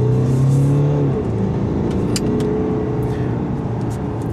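A 2017 Mercedes-Benz GLC Coupé 250d AMG 4Matic diesel accelerating, heard from inside: a low engine drone rising in pitch, easing after a gear change, then a steady hum with faint road noise.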